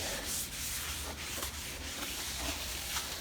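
Sandpaper is rubbed by hand over a pre-primed plastic Honda bumper, making a continuous close, raspy scrubbing with rhythmic back-and-forth strokes and no pauses or voices.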